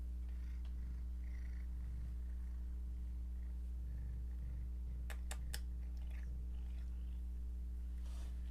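A cat purrs in a low, steady, continuous rumble, close and fairly quiet, with a few brief clicks partway through and no talking.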